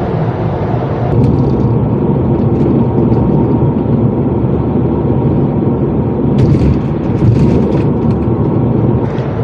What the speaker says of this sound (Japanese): タイヤのゴーって音とか風の音とかはある程度聞こえます。